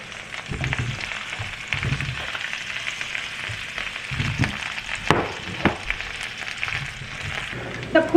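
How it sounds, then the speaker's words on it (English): Cauliflower florets fry in hot oil in a pan, producing a loud, steady sizzle with occasional stirring knocks and scrapes close by. "we are going to fry the pulgobi till they are almost cooked"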